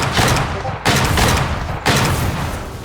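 Charon gunboat in the game Foxhole firing shells in loud, heavy booming volleys, three big blasts about a second apart, each followed by rumbling decay.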